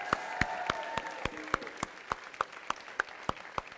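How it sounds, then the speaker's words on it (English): Wedding guests give a sparse round of applause at the completion of Kanyadan, with distinct claps in a fairly regular rhythm, fairly quiet, over a soft murmur of the gathering. "Can we have a big round of applause for the very proud father"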